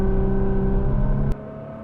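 A VW Touareg 3.0 TDI with a turbo upgrade accelerates hard in sport mode from around 2000 RPM, a loud steady engine drone with whining harmonics heard from inside, cut short by a sudden drop in level.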